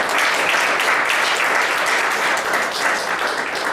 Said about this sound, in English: give everyone involved a round of applause